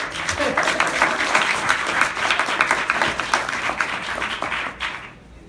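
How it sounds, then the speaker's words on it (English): Audience at a panel discussion claps for a public policy doctoral candidate, a lively, moderately loud round of many hands with uneven rhythm that holds steady, then quickly dies away near the end. "we should just all give her a round of applause for just doing it"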